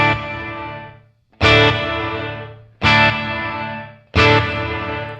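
Four bursts of a heavily effected tone, each cut off abruptly by a fast-acting reverb gate on a Red Panda Context pedal, with brief silences between the chopped decays.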